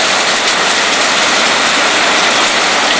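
Hail pouring down steadily outdoors during a storm, a loud, dense, continuous rattling hiss with no pauses and no voices.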